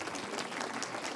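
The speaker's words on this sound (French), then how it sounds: "je vous remercie de l'applaudir pour son entrée" Steady applause from a conference audience welcoming a minister onto the stage, dense and even clapping heard at a distance, fairly quiet and continuous throughout.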